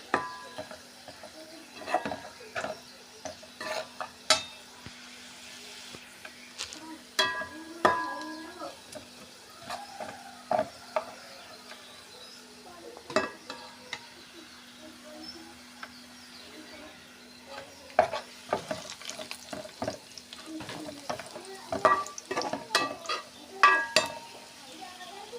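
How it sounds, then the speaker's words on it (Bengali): Onions frying in a pan as they turn brown, with a soft continuous sizzle and frequent scraping, tapping stirs of a spoon against the pan, fairly quiet and close. "আমাদের পেঁয়াজটা খুব ভালোভাবে বাদামি কালার হয়ে আসতেছে"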